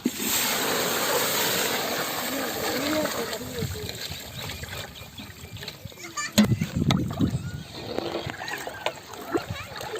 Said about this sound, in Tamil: வச்சிருக்கிற புளி தண்ணியை ஊற்றிடலாம்